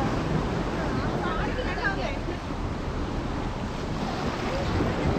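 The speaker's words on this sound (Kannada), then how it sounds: "ಸಿಕ್ಕಾಪಟ್ಟೆ ಫಾಸ್ಟ್ ಇದೆ ವೇವ್ಸ್ ಎಲ್ಲ ಇವತ್ತು" Fast, rough sea waves at a beach make a continuous roar and wash, with wind buffeting the microphone throughout.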